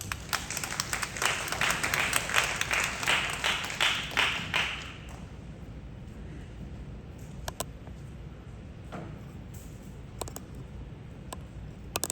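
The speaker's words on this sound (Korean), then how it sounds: "박수로 환영하길 바랍니다" An audience at a young adults' church worship service applauds to welcome a performer, a dense burst of clapping for about five seconds that fades into scattered claps and a quiet room.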